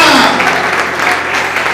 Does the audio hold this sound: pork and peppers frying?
no